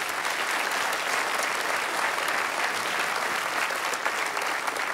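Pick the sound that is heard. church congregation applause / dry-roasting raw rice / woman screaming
church congregation applause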